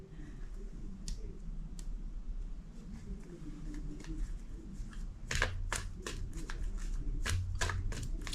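Tarot cards being shuffled close by, starting with faint sparse clicks and building into a run of crisp riffling snaps in the second half.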